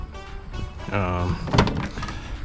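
A single dull thunk from the damaged door of a 2005 Ford Mustang GT, landing just after someone speaks, with their voice heard around it.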